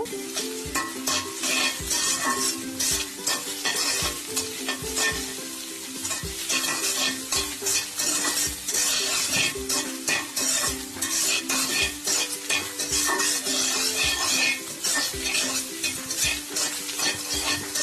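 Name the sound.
egg being stirred while frying in a pan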